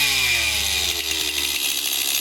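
A used chainsaw runs on half choke, its two-stroke engine revving loud and close with a raspy, buzzing drone that settles slightly over the short stretch.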